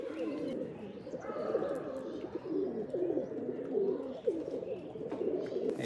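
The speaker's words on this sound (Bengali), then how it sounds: "এই যে একটা কালেকশন করা কবুতর" Rajshahi Giribaj pigeons in a collection coo continuously, a close, low, throaty burbling from several birds that overlaps without pause.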